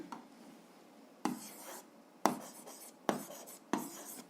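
Pen strokes writing out a seventh-grade algebra inequality solution on paper, a faint steady scratching broken by four or five sharper taps and bursts of writing, close and quiet with no talk.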